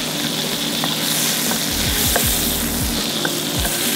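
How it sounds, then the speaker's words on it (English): Butter sizzles and browns in a hot pan with a steady, close, continuous frying crackle and a few small pops, with no talking. "Butter's melted, browning a little bit."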